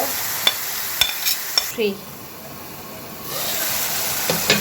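Garlic and spices fry in a pan with a steady hiss of sizzling oil, punctuated by a few sharp clicks of stirring, and one stretch where the sizzle drops lower before swelling again.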